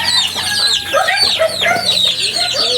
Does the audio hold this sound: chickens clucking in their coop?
yes